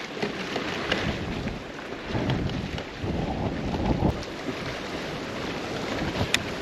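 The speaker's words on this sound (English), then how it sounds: "We have fought this wind all day." Wind gusts steadily across a lake during bass fishing, a loud, continuous broadband roar buffeting the microphone, with faint water movement around the boat and no talking.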